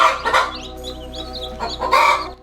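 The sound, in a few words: backyard chickens clucking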